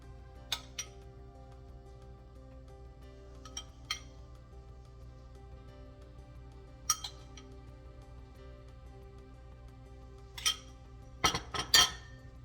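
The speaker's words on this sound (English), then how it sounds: "And just kind of spoon it over the salad." A spoon taps and scrapes against a dish as dressing goes over an avocado and beet salad: sparse, quiet clinks spaced apart, ending in a louder quick cluster.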